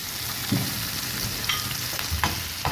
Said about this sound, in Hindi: इस तरीके से इसको फ्राई करेंगे। ये फ्राई हो रही होगी